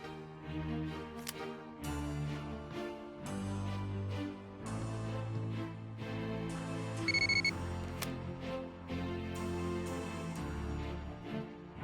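A cell phone ringing in the adventure game Moebius: Empire Rising, a melodic electronic ringtone repeating in steady phrases at moderate volume for about twelve seconds, with no voices.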